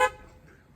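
A short car horn toot from a 1970 Triumph TR6 on a test drive, one quick blast that cuts off at once and leaves a low engine rumble underneath.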